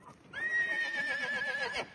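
A five-to-six-year-old mare neighs in one long, loud whinny with a steady high tone, close by, alone without talk, lasting about a second and a half.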